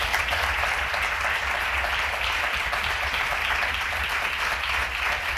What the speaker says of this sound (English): Can we get please a big round of applause?